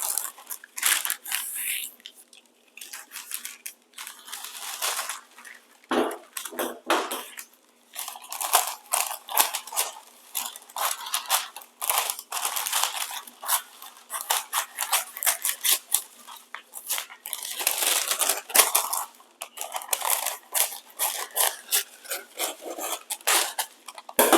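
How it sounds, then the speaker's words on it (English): Parchment paper is folded in half and then in half again, giving a close, continuous series of crinkling, rustling and creasing sounds in dense bursts over about twenty seconds. "just going to sit on parchment paper, fold it in half"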